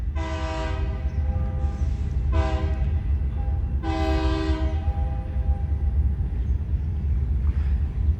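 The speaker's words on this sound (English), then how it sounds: "There's a train behind me." A train passes near the Mississippi River, its horn sounding in several loud blasts of varying length over a constant low rumble of rolling cars.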